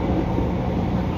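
Steady, loud rumble of a KRL Commuterline electric train running at speed on the main line out of Jatinegara station, Jakarta, a continuous low roar and hum with no breaks.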